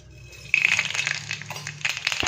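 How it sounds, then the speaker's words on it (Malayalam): Mustard seeds dropped into hot oil start crackling after a half-second of quiet. Close, busy popping and spattering follows, irregular and fairly soft. "എണ്ണ ചൂടായിട്ടുണ്ട്, നമുക്കൊരു കുറച്ച് കടുക് ഇട്ട് കൊടുക്കാം."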